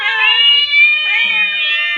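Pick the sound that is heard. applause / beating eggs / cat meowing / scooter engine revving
cat meowing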